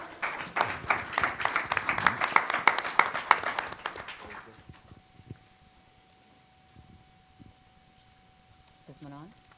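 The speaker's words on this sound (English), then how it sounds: "let's give them a big round of applause for City of Lynn" Audience applause for presenters at a live pitch event, a dense burst of clapping for about four seconds that then fades out, followed by near silence and a brief bit of voice at the end.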